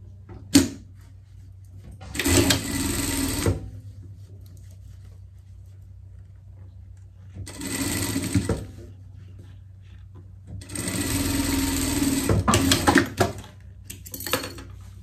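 Sewing machine stitching the seams of pet summer shorts, running in three loud bursts of steady whirring separated by quiet pauses, close by with no talking.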